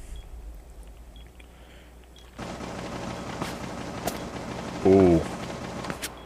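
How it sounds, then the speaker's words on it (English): Gunfire crackles through a Rainbow Six Siege match, with bursts of shots and bullets whizzing past at moderate distance, a brief electronic beep partway through and a short exclamation from a player. "Those bullets flew by me."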